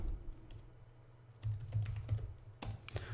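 Computer keyboard typing a command in a Wi-Fi security terminal session: a quick run of crisp, close keystrokes in uneven bursts, with short pauses between clusters.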